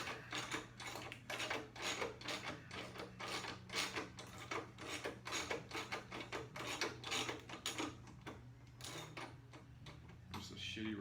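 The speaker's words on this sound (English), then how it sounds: "This is a shitty ratchet I got here." A cheap ratchet wrench loosens bolts on a 1994 Harley Softail during disassembly for an ape hanger handlebar install, clicking in a steady, rapid rhythm of close, sharp ratcheting strokes.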